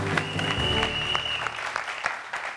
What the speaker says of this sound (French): applaudissez pour ça